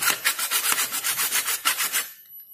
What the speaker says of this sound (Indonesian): menggunakan gergaji besi kita potong menggunakan gergaji besi